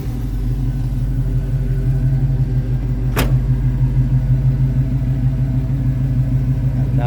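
A 1973 Chevrolet C10 pickup with a 2.5-inch exhaust cut off just behind the wheel runs loud and close in a steady, deep idling rumble, with one sharp click partway through.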